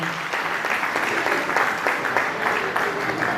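Steady applause from an audience, dense clapping throughout at an even, loud level.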